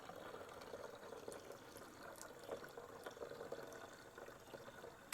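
Liquid pours from a spout during reassembly of a 1972 Honda CT90 K4 motorcycle, a faint, continuous trickling stream with slight splashy irregularities and no voices.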